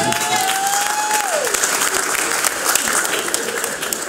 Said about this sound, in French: je vous demande d'applaudir chaudement pour l'invitation